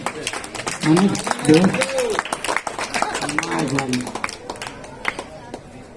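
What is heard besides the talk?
audience applause at pigeon flying tournament prize distribution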